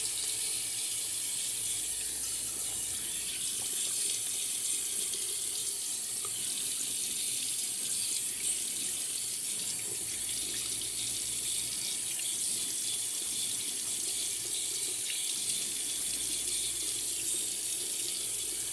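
A bathroom tap runs steadily into a sink for re-wetting the face during a shave, a constant close splashing hiss with no talk.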